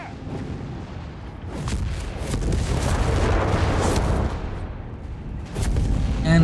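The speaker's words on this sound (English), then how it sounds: "Mines going off here." Explosions from mines detonating amid a Company of Heroes 3 battle, booming bursts layered over a continuous dense rumble of combat noise, with a louder blast near the end.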